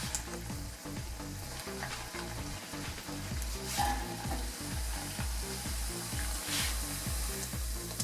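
Onions sizzle and crackle steadily in hot oil, a continuous frying hiss with occasional stirring noises, close and fairly loud.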